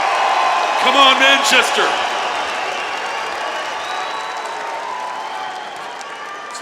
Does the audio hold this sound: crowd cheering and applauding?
yes